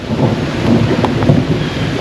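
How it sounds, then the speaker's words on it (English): Thunder rolls overhead during a night storm in Iowa, heard at a campsite beside a van, a loud, dense, close rumble with rain and wind noise and no talking. "Thunder right there, right above us."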